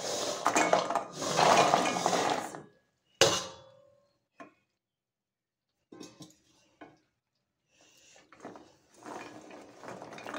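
Fried gavvalu being stirred into hot jaggery syrup in a pan, with loud scraping and clattering bursts at the start, then a sharp clack, scattered lighter scrapes and renewed stirring near the end; no talking.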